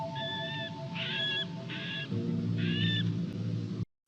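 A bird calls in a few short, repeated hooting bursts, fairly faint, over a steady low background hum with no speech.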